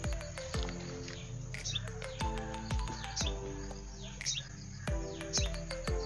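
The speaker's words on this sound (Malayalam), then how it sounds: "ആ ഒരു കുരുവി" Small sparrow chirping around a house, with quick, sharp repeated chirps and tweets in an irregular rhythm, fairly close and clear over a quiet background.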